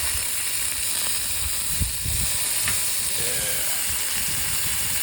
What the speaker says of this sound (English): Let these bad boys cook out.